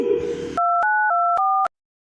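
Telephone line tones while a call is being placed: after a short burst of room noise, a run of steady, loud two-note electronic beeps that shift pitch a few times, then stop abruptly into silence.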